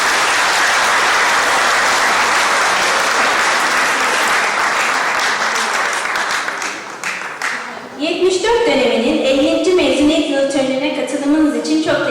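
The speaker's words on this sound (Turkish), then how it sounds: "Alkışlarla değerlendiriyoruz." Audience applause at a graduation ceremony, a dense, loud wash of many hands clapping for about eight seconds before fading, after which someone speaks into an amplified microphone.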